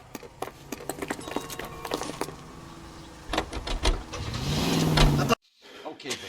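Car engine in the video game L.A. Noire: door and key clatter, then the engine starting and revving up loudly before an abrupt cut, with voices talking over it.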